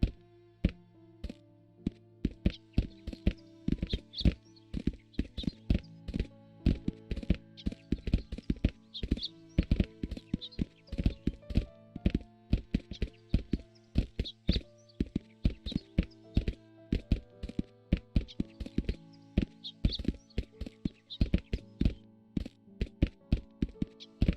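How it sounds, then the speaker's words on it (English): Footsteps in a game setting, heavy and clomping, falling in a steady repeating rhythm with a hollow thud to each step, loud and close throughout with no talk. "These footsteps are getting..."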